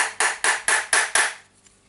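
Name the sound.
hammering Makita DDF481 drill gear part in on anvil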